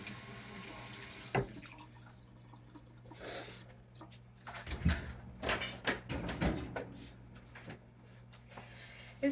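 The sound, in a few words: rinsing produce under running tap water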